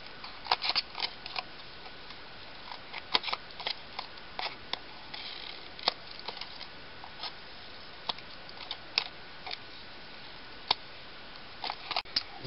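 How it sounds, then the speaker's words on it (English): Scissors trim paper for a hand-cut paper flower, making a faint, steady run of small crisp snips and clicks spread over several seconds against a quiet background hiss, with no talking. "So I'm just going to quickly trim that."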